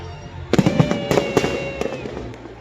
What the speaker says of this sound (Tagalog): Fireworks na.